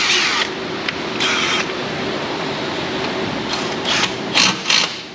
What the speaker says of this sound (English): Let's get some torque on these fasteners here